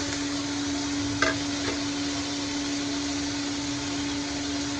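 Green chillies frying in a pan: a steady, even hiss of oil sizzling with a soft scrape of stirring. A constant hum runs underneath.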